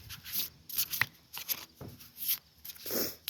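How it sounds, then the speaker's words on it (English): A deck of cards is shuffled up close in a quiet room, with soft riffling and sliding bursts in an uneven rhythm, faint and alone. "I'm going to give it a little shuffle."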